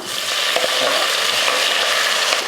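Golden-fried onions and tomatoes hiss in a hot pan while being stirred, a loud close steady sizzle with scraping movement throughout.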